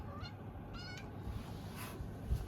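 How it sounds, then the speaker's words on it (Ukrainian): Cat meowing indoors in a farmhouse, a few faint, short mews spread across a couple of seconds over quiet room noise. "Ай, котик, котик. Кругом ходить."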